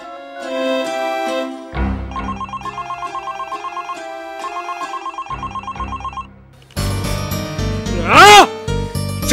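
A mobile phone plays a melodic ringtone, loud and close, repeating a steady tonal pattern before a brighter, busier musical burst near the end.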